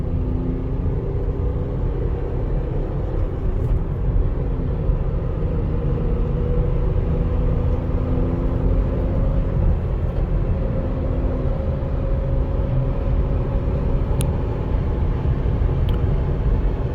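An automatic car drives along an open road, its engine a steady low rumble with road drone and no distinct break for a gear change.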